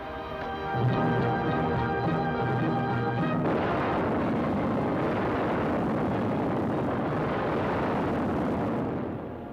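A film sound effect of bombs dropped from an aircraft exploding, heard as a tonal whine that gives way to a loud, sustained rumbling roar of blasts lasting several seconds.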